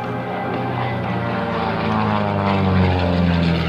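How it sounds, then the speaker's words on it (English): A propeller aerobatic airplane at an airshow climbs into a hammerhead turn, its engine a loud steady drone whose pitch slowly shifts and rises as the aircraft pulls up. "Now watch as he uses the hammerhead turn to turn the aircraft around."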